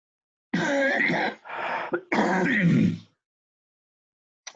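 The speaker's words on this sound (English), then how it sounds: "I better go before I get into a bit of a coughing frenzy here" A few harsh coughs and throat-clearing bursts close to the microphone, broken by short pauses, then quiet.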